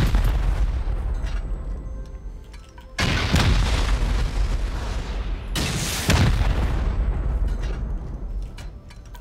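Two heavy rocket blasts in a shooter game wreck a garage, each a sudden loud boom with a long rumbling decay, about three seconds apart over a steady background din.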